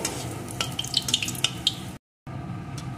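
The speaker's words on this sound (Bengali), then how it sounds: "এখন ফোড়নগুলোকে একটু লাল লাল করে ভেজে নেব।" Dried red chilli and cumin seeds frying in hot oil for a cabbage and potato curry, giving a steady close sizzle with sharp little crackles and pops, briefly cut to silence near the end before resuming.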